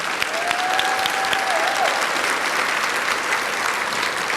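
A school crowd claps at a fifth grade elementary graduation ceremony, a steady, even wash of applause throughout with one brief whistle-like tone early on.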